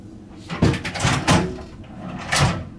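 A soft-close drawer in a Viking Sky cruise ship cabin, sliding and closing with a few muffled wooden thumps and rumbles, close by and without any slam.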